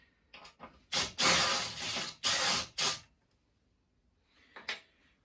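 A Makita DTD153 cordless impact driver drives a screw in a few short, loud rattling bursts, hammering hard for about two seconds, then stops, with a faint brief sound trailing after a pause.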